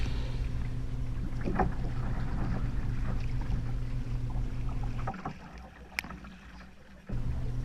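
A Stealth Fisha 555 fishing kayak being paddled on open water: steady close splashing and water rush with wind buffeting the microphone, easing briefly near the end before resuming; no voices.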